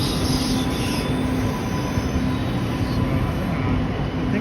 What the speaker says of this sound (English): These trains run pretty frequently.